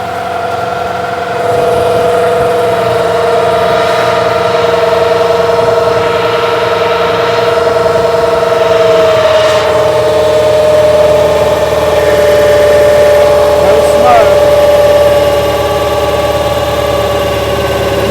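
A New Holland TL-90 turbocharged diesel tractor engine, fuel turned up and running near full power, holds a loud, steady drone with a constant mid-pitched hum and slight rises in tone, with no talk.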